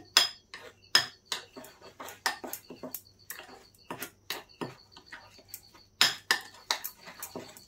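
A bowl of semolina and yogurt batter with salt being mixed, with sharp clinks and taps of a spoon against the bowl in an irregular rhythm and quiet gaps between strokes, close and fairly soft.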